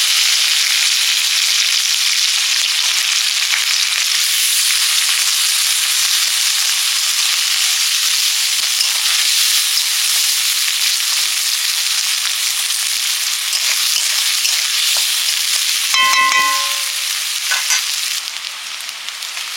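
Whole garam masala and chopped onion fry in hot mustard oil, making a loud, continuous close sizzle with crackling and a brief metallic clink of a utensil near the end.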